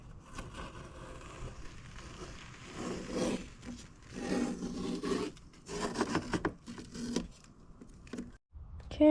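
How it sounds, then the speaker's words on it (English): Masking tape peeled off a freshly painted car panel on an E36, heard as soft rubbing and tearing strips in irregular bursts, fairly quiet and close, with brief pauses between pulls. "I just peel everything off"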